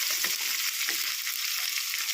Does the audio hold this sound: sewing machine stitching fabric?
no